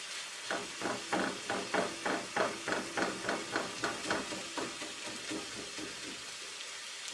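Venison being chopped and browned in a pan with onions and mushrooms: a run of about fifteen regular spatula chops and scrapes over a steady sizzle, close and clear, thinning toward the end.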